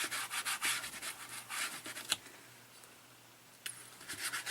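Paint being rubbed into a canvas background, a dry scrubbing sound in repeated close strokes with short pauses and one sharp tap partway through.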